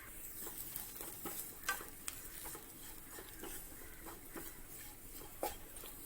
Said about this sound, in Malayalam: തേങ്ങ കരിഞ്ഞു പോവാതെ നോക്കണം. നന്നായിട്ട് വറുത്ത് എടുക്കണം.